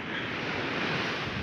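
Surf washing onto a storm-battered, eroded beach in the Philippines, a steady broad roar of waves with wind buffeting the microphone, continuous and fairly close, no voices.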